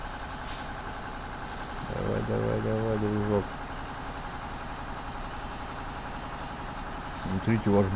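Kamaz-55111 truck engine in the Spin Tires game, a steady low rumbling drone throughout with a short air-brake hiss, while someone talks over it.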